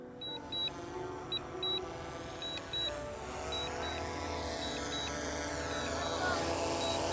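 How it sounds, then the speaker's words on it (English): DJI Mavic 3 drone descending to a landing pad outdoors, a steady propeller whine with a broad buzzing hum that shifts in pitch, plus repeated short high beeps, moderately loud and close. "Just landing the drone."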